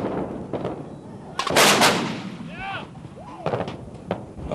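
An M109 self-propelled howitzer fires its cannon with a sharp, loud blast that rolls and echoes for about a second, set among quieter mechanical clanks and thuds before and after.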